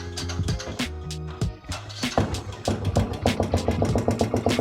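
A motorcycle with a fault noise is started and run. A few rough, irregular engine bursts give way to a steady, loud running note with repeated knocking pulses.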